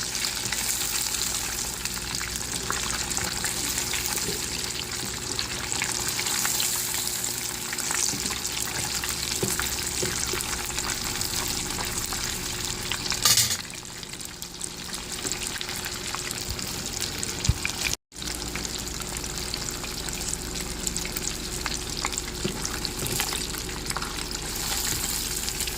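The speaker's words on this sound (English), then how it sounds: "This is the second time frying this, so yep, ultimately gonna be crispy and soft." Chicken breasts deep frying a second time in hot oil sizzle and crackle loudly and continuously, with a brief dip midway, and no talk.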